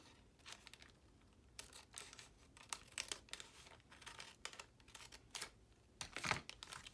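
A paper lunch bag is cut and handled: quick bursts of crinkling, rustling and snipping paper, irregular and close, quiet overall with a louder crumple near the end and no talking.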